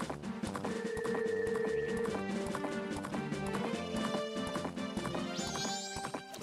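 Rhythmic clip-clop of horse hooves at a steady gallop in a video game, layered with game music and tonal effects throughout.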